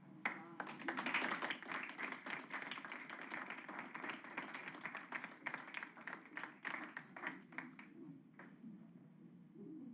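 A small audience claps for student representatives at a 1989 high school awards event, a scattered round of clapping that gradually tapers off toward the end.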